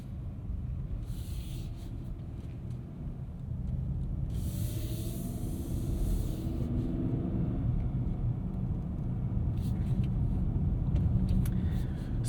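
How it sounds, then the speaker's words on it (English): A 2023 Hyundai Santa Cruz pickup with an 8-speed wet dual-clutch gearbox, heard from inside while driving: a steady low road and engine rumble that builds slightly, with faint hiss and no voices. "Smooth shifts from that 8-speed wet dual clutch."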